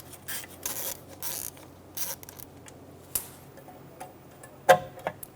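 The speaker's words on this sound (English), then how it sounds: "Using a 6mm hex head, we're going to remove the bolt for the ABS sensor." Hand tool working a bolt on the ABS wheel speed sensor of a 2014-2018 Chevrolet Silverado 1500: scattered faint metallic ticks and ratcheting rasps, sparse and close, with a sharper click near the end.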